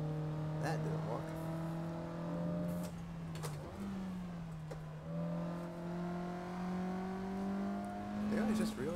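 Race car engine revving in Assetto Corsa, its pitch climbing steadily through gears with brief drops at each shift, loud and continuous, while someone talks over it.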